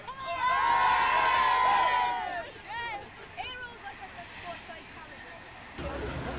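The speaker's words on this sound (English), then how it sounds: "we're going to have one big cheer for the Rangers" A small crowd gives a loud cheer for the Laune Rangers, All Ireland club champions. Shouts and whoops rise together, then die down into scattered calls and chatter.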